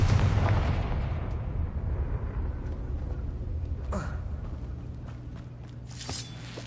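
A Confringo spell explosion in a video game starts with a heavy rumbling blast that fades slowly over several seconds, then a sharper burst follows near the end, with a voice speaking faintly over it.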